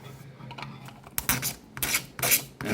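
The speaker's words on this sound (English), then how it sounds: "you don't want to scrape all the way through" A sharp blade scraping layer lines off a 3D-printed part, close and alone, with several short rasping strokes that grow louder and longer toward the end.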